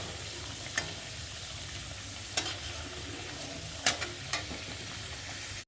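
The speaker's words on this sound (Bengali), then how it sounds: "এদিকে এই যে আলু ভাজা হচ্ছে" Potatoes frying in oil in a home kitchen, a steady soft sizzle running throughout with a few sharp clinks of a spatula or utensil against the pan at irregular intervals.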